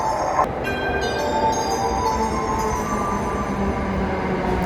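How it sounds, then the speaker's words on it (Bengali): A train pulling into a station in Japan gives a loud, continuous rolling rumble with sustained high metallic squeals and ringing tones as it draws near. "এই যে আমাদের স্বপ্নের ট্রেন চলে আসছে"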